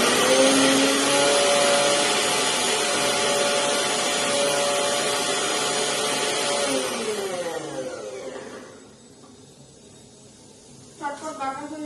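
A small mixer grinder jar whirs loudly and steadily, grinding a thick paste with no water added, then cuts out and winds down, leaving a quiet stretch with a brief clatter near the end.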